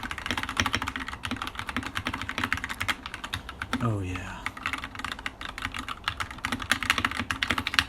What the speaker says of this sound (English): I'll even give you a quick ASMR of my keyboard.